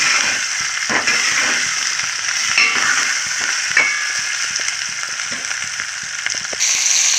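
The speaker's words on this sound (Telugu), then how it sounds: "బాగా ఫ్రై అవ్వాలి" A spice tempering for bottle gourd pulusu sizzles steadily in a hot pan, broken by occasional stirring scrapes and clicks, close and continuous.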